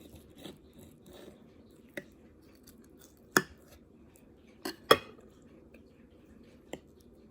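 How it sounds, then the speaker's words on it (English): Cutlery cutting through cooked hot honey chicken on a plate, a few faint scrapes and sharp clicks of knife and fork against the dish over a quiet background, spaced irregularly. "Cut a little piece of chicken."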